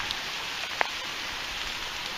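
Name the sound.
hail and rain falling on trees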